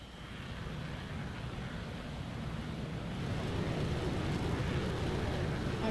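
A simulated aircraft engine in DCS World spooling up toward maximum RPM, a steady broad roar that grows noticeably louder and denser partway through and then holds near full power.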